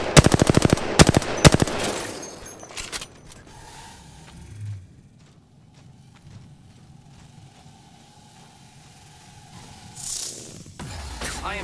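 Loud bursts of rapid gunfire open a first-person shooter game scene, followed by quieter mechanical clicks, rattles and a faint sustained hum.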